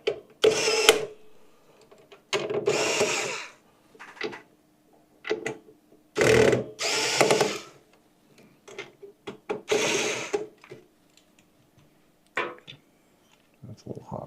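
A processor cooler fan being unscrewed from a computer motherboard during a system build, heard as intermittent clicks, rattles and short handling bursts spread over the clip.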